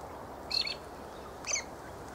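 Galahs, Australian cockatoos, give two short, fairly faint squawking calls about a second apart against a quiet background on a cold winter afternoon.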